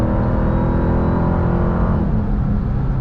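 A 2023 Dodge Durango SRT Hellcat SUV with a 710-horsepower engine pulls hard, its loud, steady, droning roar heard from inside the cabin and holding strong throughout.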